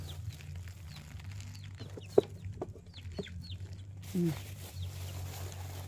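Caged chickens cluck and chirp as they are given feed, with soft pecking taps and rustling at close range and a low steady hum running underneath.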